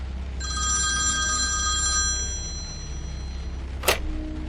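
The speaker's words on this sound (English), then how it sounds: "The phone rang just 2 minutes before closing time." A telephone bell rings once with a bright, shimmering metallic ring that fades over about two seconds, followed by a single short click.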